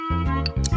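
A wristwatch ticks through a doctor's stethoscope, giving a few close, sharp clicks in quick succession that sound slightly metallic and resonant.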